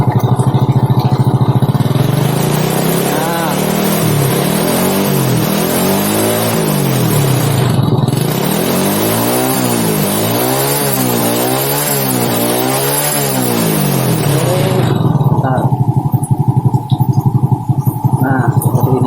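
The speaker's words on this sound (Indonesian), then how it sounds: "Kemudian kita coba kita gas motornya." A Honda Supra X motorcycle engine revs hard and repeatedly close up, loud and continuous, rising and falling in waves of throttle before settling back toward idle near the end.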